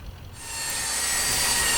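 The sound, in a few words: belt sander with fine sandpaper, powered by generator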